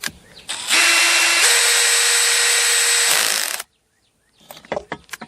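A power driver backing screws out of a chainsaw during a rebuild: one sustained whirring run of about three seconds with a pitch shift partway, then silence and a few light clicks and clatters of handling.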